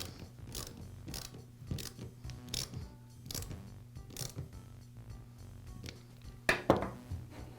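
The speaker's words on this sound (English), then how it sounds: "now I'll secure it with the screw" Small metal screw being driven into the starter assembly of a Poulan chainsaw during starter rope replacement, a run of faint ratcheting clicks and scrapes at close range, with a couple of sharper snaps near the end.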